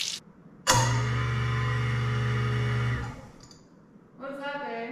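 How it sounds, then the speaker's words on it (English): A kitchen garbage disposal under a large sink starts up with a loud, steady mechanical hum and whir lasting about two seconds, then cuts off as faint water and other kitchen noise continue around it. "the garbage disposal turned on."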